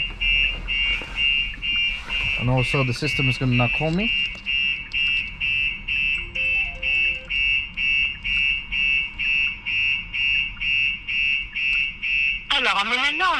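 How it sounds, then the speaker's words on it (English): A 2022 Kia Sportage's StarLine S9 car alarm blares in a loud repeating pulsing pattern after a door is opened, with a person talking over the start and an electronic voice near the end. "After a few seconds, alarm goes off."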